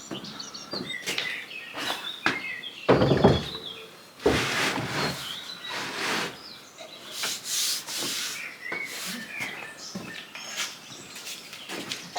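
A cottage window frame is rubbed down by hand with abrasive, giving irregular scratchy rasping strokes, close and moderately loud, with faint birdsong outdoors in the background.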